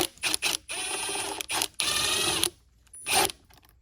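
A 1/4-inch ratchet backing self-tapping screws out of the bottom cover of a Rainbow E2 Black vacuum motor: several short bursts of rapid close clicking separated by pauses, with no talk.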